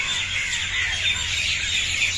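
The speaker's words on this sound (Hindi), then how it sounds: "इधर देखें चिड़ियों की वॉइस कैसे आ रही हैं, बहुत ही खूबसूरत" Outdoors in a Pakistani village, many birds chirp and squawk together in a dense, steady chorus that runs unbroken throughout, with a low hum underneath.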